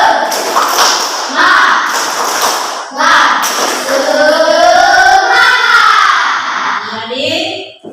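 A classroom of students performs a rhythmic spirit clap, loud and close, with repeated bursts of hand claps and taps under shouted group chanting.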